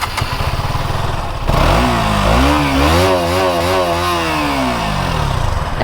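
A motorcycle without an exhaust, an R15M or Duke 200 held in neutral, starts with a rough, steady idle, then revs up and falls back in one long, loud, close rising and falling swell.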